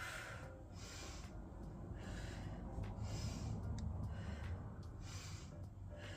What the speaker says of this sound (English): So I breathe in as I go up, and I breathe out as I go down.